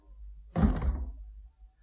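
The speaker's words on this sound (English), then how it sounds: "Go out and close the door." A door being closed in an indoor scene, a single dull thud with a short rumbling tail, close and fairly loud in an otherwise quiet room.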